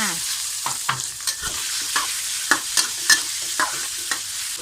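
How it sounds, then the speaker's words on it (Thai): Pork stir-fried with a pounded garlic, pepper and coriander root paste in a hot pan: loud, steady sizzling with rhythmic scrapes and taps of the spatula, close up and with no talking. "ผัดหมูตามลงไปเลยค่ะ"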